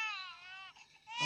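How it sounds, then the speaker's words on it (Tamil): A baby cries in a movie teaser with a thin, wavering wail that dips briefly, then rises again louder and closer at the end. "குழந்தை ஒன்று அழுகிற சத்தம்."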